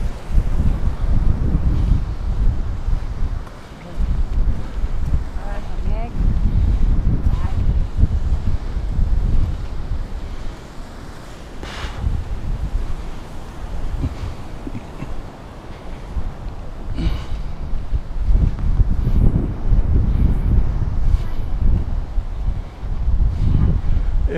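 Wind gusting on a beach walk along the Gold Coast, buffeting the microphone in strong rumbling bursts that rise and fall, with surf and ocean noise beneath and occasional voices.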